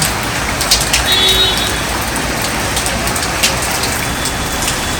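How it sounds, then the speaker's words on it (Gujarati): Steady rain falls in a dense, continuous hiss, with scattered drops pattering on a nearby surface and no voices. "અહીંયા વરસાદ ચાલુ થઈ ગયો છે"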